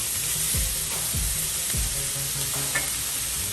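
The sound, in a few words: food sizzling in a frying pan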